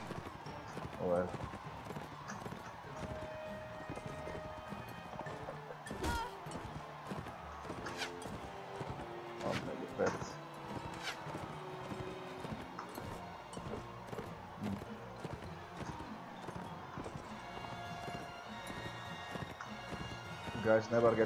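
Horses gallop across a battlefield in the video game Mount & Blade Warband, with rapid hoof clip-clops and scattered clashes in a fairly quiet, busy mix, and someone talks throughout.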